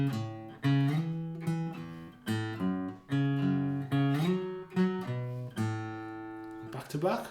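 Acoustic guitar plays the second pass of a riff at a slow, deliberate pace. Close, clear notes and chord tones sustain, with no talking over them.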